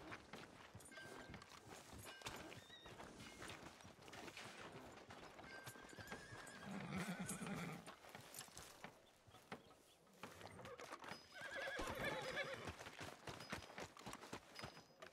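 A horse whinnies twice in a Red Dead Redemption 2 town street, over steady clip-clopping hooves and faint ambient bustle, with no talk.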